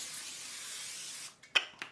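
Cooking spray hisses onto a pan in a home kitchen, one steady faint spray that stops, followed by a couple of small clicks of the can.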